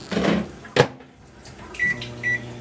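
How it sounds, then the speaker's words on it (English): A microwave oven heating a bag of frozen vegetables, with a clunk of the door or handling, then the steady hum of the running oven and a couple of short beeps. "throw it in the microwave"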